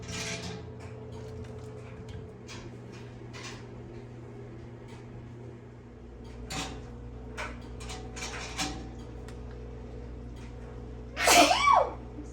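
A single loud sneeze bursts out near the end, following a long stretch of steady mechanical hum and scattered clatter from a running blender.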